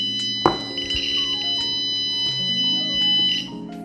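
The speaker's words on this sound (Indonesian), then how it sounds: "Arduino akan memerintahkan buzzer yang ada di sini untuk berbunyi, memberikan sinyal kepada tunanetra bahwa ada rintangan di depannya" The buzzer on an Arduino obstacle detector for blind users sounds a shrill, steady electronic tone. It holds for several seconds, with a short knock just before it starts and slight shifts in pitch along the way. No one speaks.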